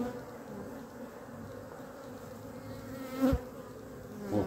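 Honeybees hum at a beehive in a dense, steady buzz, with one bee passing close and loud for a moment before the swarm's drone settles back.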